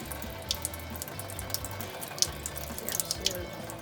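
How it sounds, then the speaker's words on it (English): Water drains from freshly grated daikon radish, a steady running splash like a tap into a sink, with small irregular drips and spatters popping over the flow; no one speaks. "We have to drain it now because there's a lot of water Liquid."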